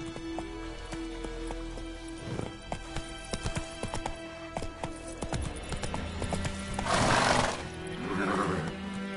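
A horse in The Witcher 3 clip-clops along in a steady galloping rhythm, then lets out a loud neigh partway through, over sustained tonal game music.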